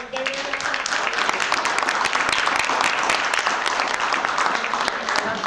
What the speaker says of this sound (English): Let's clap it up right there.